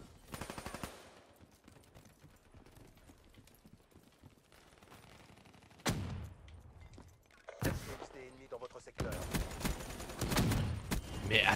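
Bursts of automatic gunfire from the Razorback weapon in Call of Duty Black Ops 3, starting faint and growing louder and denser toward the end, with someone talking over parts of it.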